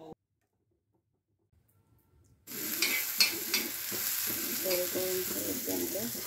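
Refined oil in a kadai starts sizzling abruptly after a near-silent pause, giving a steady close frying hiss with light bubbling crackles.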